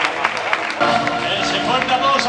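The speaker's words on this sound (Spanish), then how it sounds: "Ese fuerte aplauso para Marc Vidal." Clapping and crowd noise rise for boxer Marc Vidal, the Spanish featherweight champion, as he is called up into the ring at a boxing club tribute, a short burst of applause blended with voices.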